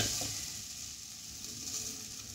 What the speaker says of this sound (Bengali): মটরশুঁটিটা অনেকটাই ভাজা ভাজা হয়ে গেছে।